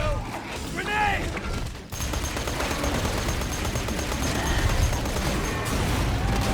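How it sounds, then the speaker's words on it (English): A grenade blast and heavy gunfire from the Borderlands 2 video game, a loud, dense barrage of shots with a brief booming burst near the start, continuing steadily with a voice shouting over the combat. "Grenade!"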